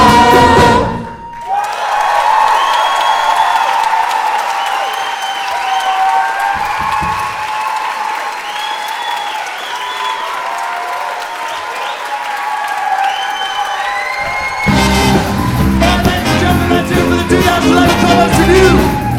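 A large audience at a student commerce revue show breaks into loud, sustained applause with scattered cheers and whistles, a dense wash of clapping that swells, eases, then surges again near the end.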